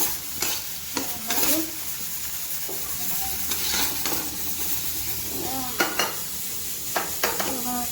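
Pointed gourd fries in oil in a kadhai, a continuous hiss broken by several scraping strokes of a spatula against the pan, close and fairly loud.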